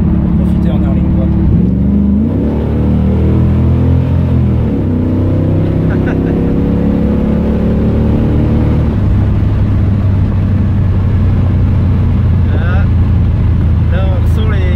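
Pontiac Firebird with a 467ci V8 revving on a race track, heard from inside the car: a loud, continuous low engine drone whose pitch climbs and falls through several rev changes, dense and close throughout.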